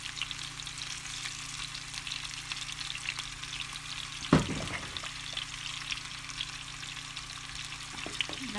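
Stuffed karela (bharwa masala bitter gourd) roasts in oil in a kadhai with a soft, steady sizzle and crackle, broken once midway by a sharp metallic clink of a utensil against the pan.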